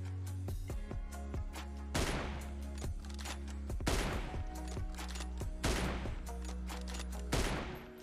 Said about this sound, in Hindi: मैं पीछे मतलब फायर कर रहा हूँ